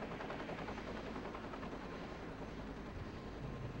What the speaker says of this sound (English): That is a huge helicopter.